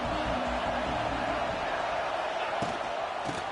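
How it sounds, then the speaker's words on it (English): A football stadium crowd roars as a broad, continuous wash of noise that fills the whole moment, with faint thuds and a commentator's voice under it. "This crowd ready to make its presence known."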